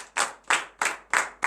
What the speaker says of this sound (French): Donne l'acclamation à sa parole.